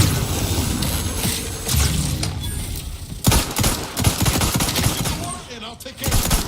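Sustained bursts of rapid automatic gunfire in a combat video game, dense overlapping shots with heavy impacts and mechanical clatter, loud and continuous with brief gaps and a voice faintly beneath.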